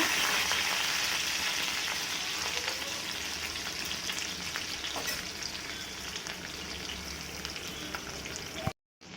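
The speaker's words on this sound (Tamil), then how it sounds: "இது நல்லா வதங்கணும் ரெண்டு நிமிஷம் நம்ம இதை வதக்கலாம்" Cardamom, cinnamon, green chillies and chopped garlic fry in a pan, producing a continuous close sizzle with occasional stirring clicks before a brief cut to silence near the end.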